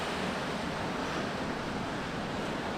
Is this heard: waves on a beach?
yes